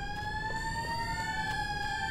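A police siren wails steadily in the Destroy All Humans video game, its looping tone loud and continuous over a low rumbling game backdrop, with no voices.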